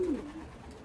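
Racing pigeons among a loft of young birds give a short, low coo up close at the start, with a faint hum of the yard behind it.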